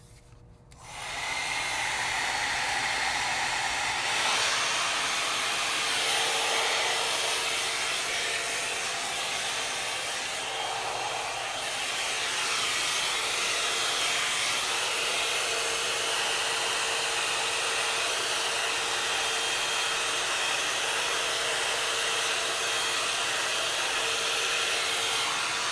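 Envy Airstyler hot air styler running on medium heat while styling a wig, a steady loud blowing whoosh that holds continuously from start to finish with only slight shifts in tone.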